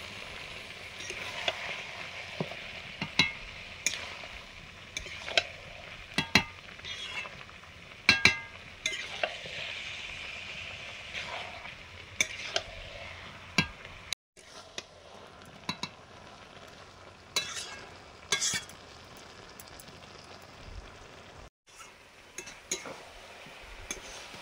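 Boiled cabbage being stirred and fried in a pan, with a continuous sizzle broken by frequent sharp clinks and scrapes of a utensil against the pan, close and fairly quiet, with no talking.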